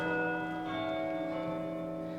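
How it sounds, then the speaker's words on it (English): Abbey church bells ring late at night, a sustained resonant peal with long humming overtones, steady and fairly loud, with no voices. "I like that the Abbey rings late at night."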